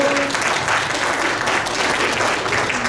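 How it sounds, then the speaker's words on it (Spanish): Steady, full applause from a parish audience, a continuous wash of many hands clapping at close range throughout. "Démosle un fuerte aplauso."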